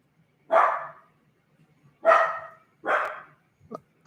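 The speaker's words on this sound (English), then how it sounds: "some issue with a dog" A dog barks several times, with three sharp, fairly close barks spaced about a second apart and a quieter short yelp after them, against an otherwise quiet background.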